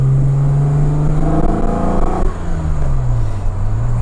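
A Ford Escort XR3 fitted with a V6 engine revs close by, the engine note climbing, then dropping and settling back to a lower drone, with no talking.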